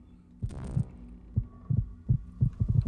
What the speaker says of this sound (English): listening for the heartbeat.